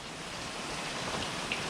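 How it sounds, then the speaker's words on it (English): Rain falling outdoors during a yard sale item sort, a steady soft broadband hiss of drops on surfaces, even and continuous throughout with no talk. "Oh, it's starting to rain again?"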